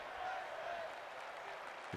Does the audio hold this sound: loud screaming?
no